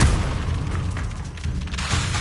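Fire spell blasts from Incendio in Hogwarts Legacy, a loud booming burst at the start followed by sustained rumbling roar and a second swell near the end.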